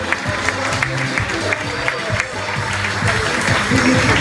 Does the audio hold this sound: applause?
yes